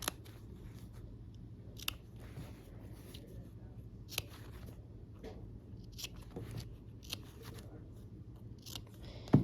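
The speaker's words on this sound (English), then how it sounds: "Now we'll go ahead and clip our corners here." Scissors clipping the corners of a fabric quilt block, a series of soft, sharp snips at irregular intervals over a quiet room hum.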